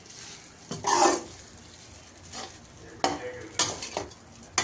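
Ragi semiya stirred in a pan over a low flame, a few scraping sweeps and soft sizzling bursts with quiet gaps between them, heard up close.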